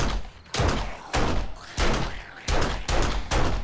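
Gunfire from the zombie survival game 7 Days to Die, Alpha 17 horde night: about six heavy, evenly spaced shots, each a loud broadband crack with a short decaying tail, fired alone with no voices.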